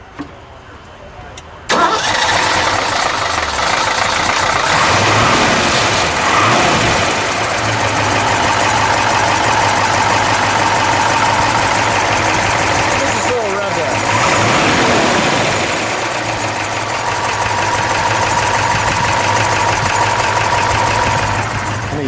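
A 1970 Mercury Cougar Eliminator starts with a sudden crank and catch, then settles into a loud, lumpy idle with a couple of rising revs midway, while people talk nearby.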